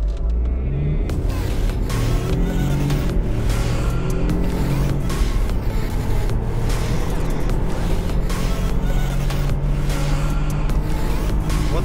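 BMW 318i running on 100-octane petrol, accelerating hard through several gears, engine note rising in long sweeps with brief dips at each shift, loud and close from inside the car for about twelve seconds.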